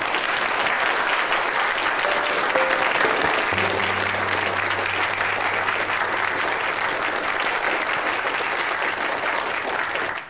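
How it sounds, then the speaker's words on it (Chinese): Classmates in a school classroom applaud a student who won first place in a physics competition, a steady, dense clapping that fills the room for about ten seconds before cutting off. "来吧，为他鼓掌吧。"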